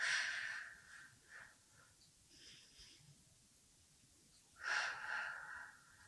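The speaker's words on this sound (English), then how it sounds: "We'll begin inhaling for 5 and exhaling for 5" An instructor's slow breaths during a mat Pilates class, a long exhale fading at the start and another swelling near the end, soft and close with quiet gaps between.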